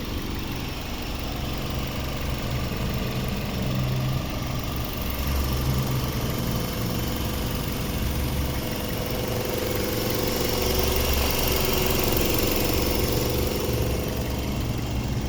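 A Toyota Soluna Vios 1.5 VVT-i with automatic transmission idles smoothly and steadily for the whole stretch, a close, even engine hum with no stumbles and no speech.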